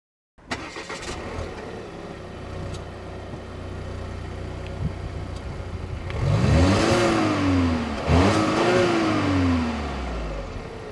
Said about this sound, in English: Let me give you a little impression about driving the Volvo S60 T5